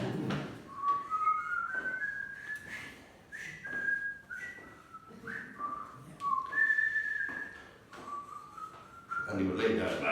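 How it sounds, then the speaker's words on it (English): A man whistles the tune The Jolly Brothers, a steady melodic line of sliding, held notes running almost without a break across the whole stretch, up close and fairly loud, with low breathy noises in between. "Now, the tune he's whistling was called the Jolly Brothers."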